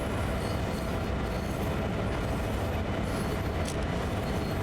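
A freight train coasting on the rails of Sand Patch Grade in Train Sim World 2, a steady, loud rolling rumble and wheel noise with a faint squeal near the end.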